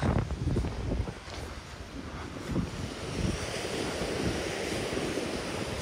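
Sea waves wash against and undercut an embankment on a winter shore at Adler, Sochi, a continuous loud rushing surf with gusty wind buffeting the microphone and no voices.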